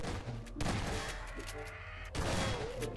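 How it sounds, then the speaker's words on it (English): Gunfire from the video game Garry's Mod, with loud bursts of shots at the start and again near the end, separated by a stretch of busy game noise. "Why are you shooting me?"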